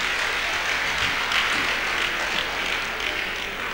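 Continuous crowd noise fills a convocation lecture hall at Yaba College of Technology as the audience applauds a professor, a dense steady roar of many hands with no pauses, loud and diffuse.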